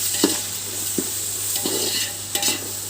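Onions frying in a pan for biryani, a steady soft sizzle with a few light scrapes and clicks of a spoon stirring, close and without talk.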